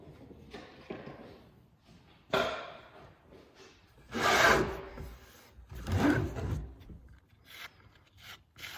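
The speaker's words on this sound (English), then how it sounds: "I'm just gonna scrape the edges" A credit card scrapes along the edges of a thrown clay cylinder in several soft, gritty strokes, the longer passes swelling louder. The scraping is close and quiet, with no voice over it.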